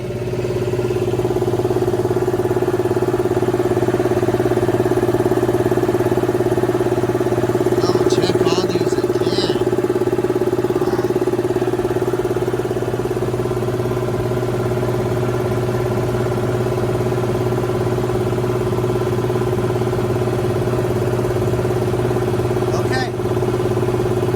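An Alkin W31 high-pressure compressor filling a tank drones loudly and steadily with a humming mechanical tone, broken by a few brief hissing bursts partway through.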